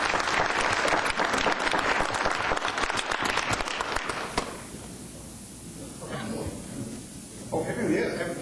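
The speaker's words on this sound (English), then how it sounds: "Let's give them a big round of applause." Applause for the Louisville Morning Rotary Club at a city council meeting, a dense burst of clapping for about four seconds that stops abruptly, followed by quieter room noise and a few voices talking.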